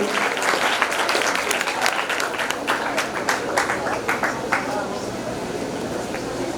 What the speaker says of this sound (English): Please give a huge round of applause, my dear friends